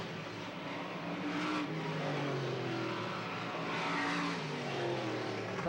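Late model race cars circle a speedway track at Selinsgrove in 1989, their engines blending into a loud, continuous roar with steady rising and falling pitch and no pauses.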